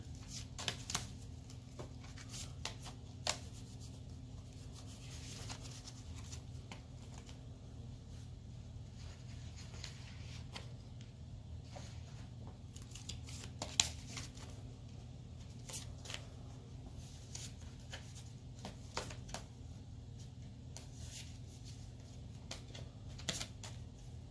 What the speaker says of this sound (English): Now we will shuffle the deck.